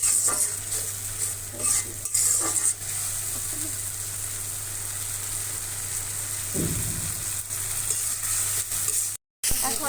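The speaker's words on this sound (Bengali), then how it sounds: "এখন আরও কিছুক্ষণ আরও কিছুক্ষণ নাড়াচাড়া করে নেবে" Masala being stir-fried in a pan, a continuous sizzle with repeated spatula scrapes and clinks, close and moderately loud, with one low thud partway through and a brief dropout near the end.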